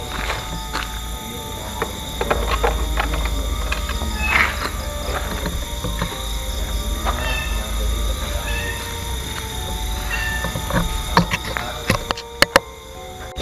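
A cat meows a few times amid a busy outdoor background of insects and steady hum, the calls moderately close and standing out briefly.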